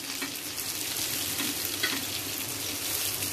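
Masala-coated fish for Tamil-style meen porichathu frying in hot oil, a steady close crackling sizzle throughout with no voices.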